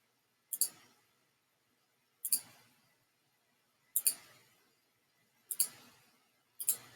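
Five separate computer mouse clicks sound close and crisp, spaced about one and a half seconds apart in an otherwise quiet room.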